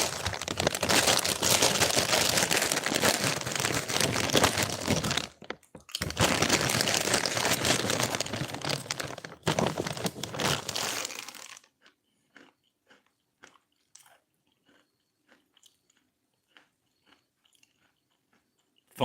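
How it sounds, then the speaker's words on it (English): Cracker packaging crinkles loudly and continuously for about eleven seconds, broken by a brief pause, then gives way to quiet, sporadic crunching and chewing of crackers close by. "But luckily, I have crackers."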